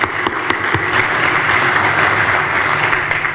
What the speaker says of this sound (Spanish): también pido por favor un fuerte aplauso y un agradecimiento